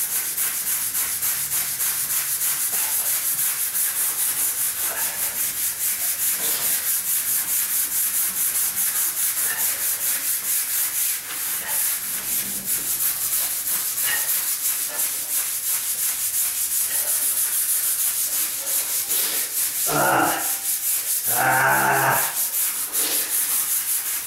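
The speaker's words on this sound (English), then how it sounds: "I'm using my brush, my steel brush." A steel brush scrubs a concrete floor during refinishing, giving continuous close, raspy rubbing strokes in a steady rhythm, with a few louder scrapes toward the end.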